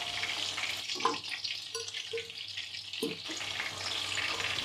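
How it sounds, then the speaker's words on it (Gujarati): Whole onions for a stuffed onion curry fry in oil in a pan, giving a continuous close hiss with a few soft knocks and bubbling pops. "હવે આપણે અહીંયા 2 મિનિટ જેવું જ રાખવું પડશે ત્યાં આપણી ડુંગળી તળાઈ જશે"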